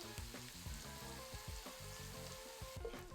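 Shallots, garlic and thyme leaves frying in a pan for a green bean casserole, a continuous quiet sizzle with soft, irregular knocks and scrapes from a spatula over a low hum.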